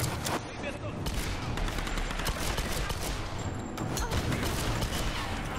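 Enemy gunfire in a Tomb Raider ruins fight, a loud, continuous barrage of rapid shots and bursts filling the whole stretch while someone talks excitedly over the shooting.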